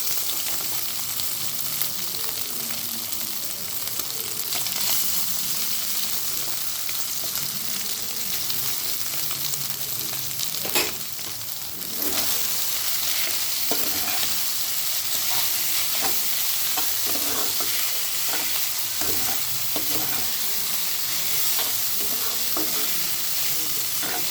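Boiled chow mein noodles stir-fried with vegetables in a hot pan, a loud continuous sizzle with a brief dip midway, overlaid by repeated scraping and tossing of the spatula.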